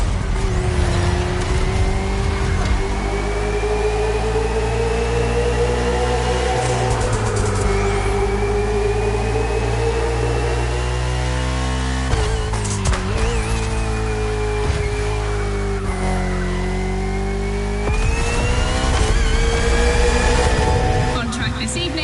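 A Ferrari 488 GT3 race car and a KTM RC16 racing motorcycle lap a circuit in The Crew Motorfest, engines droning and rising and falling continuously through gear shifts, loud and close.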